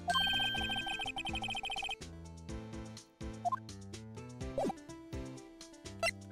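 A cell phone rings in the Phoenix Wright: Ace Attorney video game, a bright electronic ringtone pattern for about two seconds before game music takes over.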